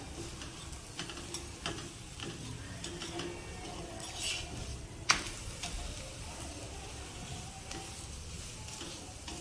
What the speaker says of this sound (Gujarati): આ રીતે સાઈડ ચેન્જ કરતા જઈ તેમાં થોડું તેલ ઉપરથી ઉમેરી અને સેમ પ્રોસેસથી આપણે બીજું થેપલું પણ શેકી લઈશું.